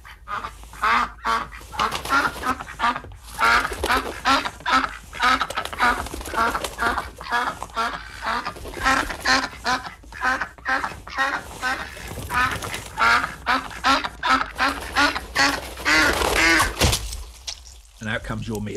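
Recorded duck quacking played to restaurant diners in a dining setting, a rapid run of loud, close, nasal quacks and honks repeating steadily for many seconds before cutting off abruptly.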